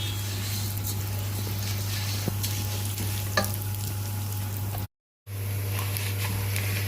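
Rice is sautéed in a pot with a continuous close sizzle and soft scraping stirs, a few sharper clicks of the utensil against the pot, a low steady hum underneath and a brief dropout near the end.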